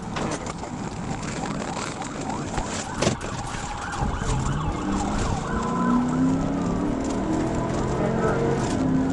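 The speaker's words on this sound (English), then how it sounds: "troopers activated their lights and initiating a pursuit" A police car siren wails at the start of a highway pursuit, its rising and falling tones sweeping over engine and road noise, with voices talking throughout.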